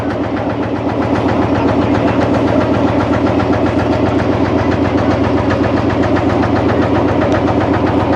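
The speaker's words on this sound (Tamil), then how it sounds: "அதில் பார்த்தீங்கன்னா இன்னும் ஒரு போட் பந்தோன்னு இருக்குது நயனாதேவியில் இருந்து" A boat engine drones on a sea crossing to Nainativu island, loud and steady with a constant throbbing rumble and mechanical rattle, close by and unbroken throughout.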